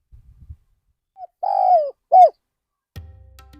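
A spotted dove coos close by in Ban Nong Hin, giving a short note followed by two longer, clear cooing phrases in a quiet setting, with a brief low knock at the end.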